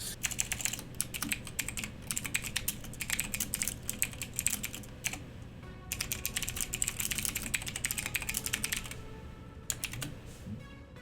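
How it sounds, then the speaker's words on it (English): Furious rapid typing on a mechanical keyboard, close and clattery with dense bursts of clicky keystrokes and brief pauses between flurries. "Furious typing intensifies. Yes. Mechanical keyboard for the win. Loud clickety clacks."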